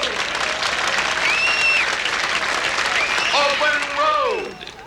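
An audience at a hobo convention applauds as candidates for King of the Hobos are introduced, a sustained crowd clapping with whistles and cheers rising over it, fading near the end.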